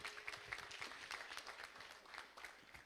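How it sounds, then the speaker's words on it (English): Applause from a forum audience in a hall, a steady wash of many hands clapping, fairly faint and distant, with no talk over it. "One more round of applause for Mr. Carl Peterson, please."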